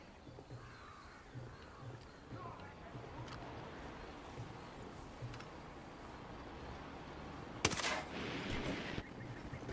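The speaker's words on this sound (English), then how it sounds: "Machine guns." A short, harsh burst of machine gun fire erupts late in the clip in Ghost Recon Wildlands, rising out of faint outdoor game ambience with cawing birds, while someone talks quietly.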